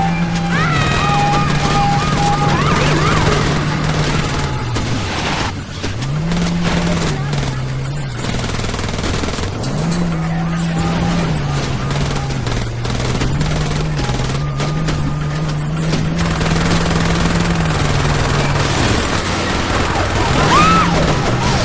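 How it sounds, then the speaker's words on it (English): Gunfire aimed at the player's character in the Saints Row video game near a federal office, loud rattling bursts layered over game music and engine drone, with voices talking throughout. "I'm taking fire!"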